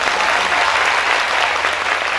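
Steady, dense applause from a church congregation fills the whole stretch, loud and even with no pauses and no voices over it.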